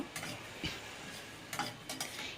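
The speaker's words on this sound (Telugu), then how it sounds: "ఒక నాలుగు స్పూన్లు నువ్వు నువ్వు పప్పు వేసుకుని ఫ్రై చేస్తున్నాను" Sesame seeds fry in a pan, giving a soft, faint sizzle with a few scattered stirring taps and light ticks from the spoon.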